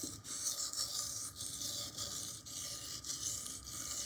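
A Victorinox knife blade is pushed with firm pressure across a Lidl Parkside whetstone, making close, steady rasping strokes in an even back-and-forth rhythm, each gritty scrape briefly broken between passes, with no talk.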